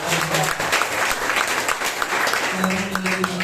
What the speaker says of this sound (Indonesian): sekali lagi kita berikan tepuk tangan yang terbaik